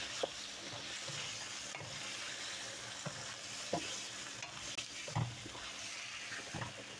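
Shrimp with pasta sizzle and fry in a pan, a steady soft hiss broken by a few scraping stirs and light clinks, close and moderately quiet.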